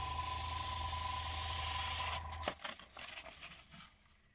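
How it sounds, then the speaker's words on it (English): A Gaahleri Mobius trigger airbrush sprays paint onto paper at close range, giving a steady loud hiss that cuts off after about two seconds, followed by faint scattered rubbing and handling sounds. "And if I spray closely to the paper,"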